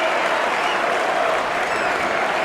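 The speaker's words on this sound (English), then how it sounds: "Even the Castleford fans were applauding that move." A rugby league crowd at a Hull KR versus Castleford match applauds a try, a dense, steady wash of clapping that stays loud and even throughout.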